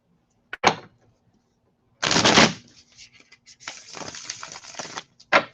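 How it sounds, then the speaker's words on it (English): Tarot cards are shuffled by hand in several short riffling bursts with quiet gaps between them, close and fairly loud. "And I'm shuffling, by the way."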